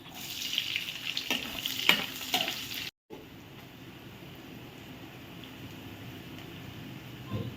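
Onion and green chili pieces fry in hot tempering oil for an Andhra ulavacharu biryani, crackling with a few spatula clicks for about three seconds before a brief cut and a softer, fainter sizzle.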